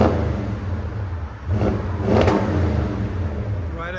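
2013 Audi S6 4.0L twin-turbo V8 with a muffler delete, revving in short bursts with a deep exhaust rumble and people talking over it.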